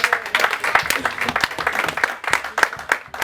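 Church congregation applauding during a French-language sermon, a lively burst of many hands clapping in uneven rhythm, fairly loud and close, with some voices calling out among the claps.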